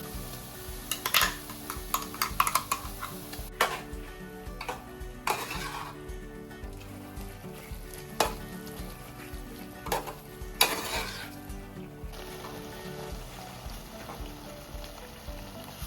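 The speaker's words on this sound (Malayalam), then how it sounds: "നമുക്ക് ഇതുകൂടെ ഒന്ന് ചേർത്ത് ഒന്ന് വഴറ്റി കൊടുക്കാം" Ground coconut spice paste for prawn theeyal curry sizzles steadily in a hot pan, with frequent scraping and clattering strokes of a stirring spoon, close and continuous throughout.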